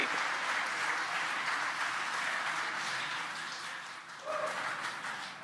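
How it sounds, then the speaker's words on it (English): Steady applause from a crowd at a launch viewing site for the Crew-4 mission booster landing, a continuous broad clatter of many hands that holds for the whole stretch and eases slightly near the end. "You can hear the applause behind us."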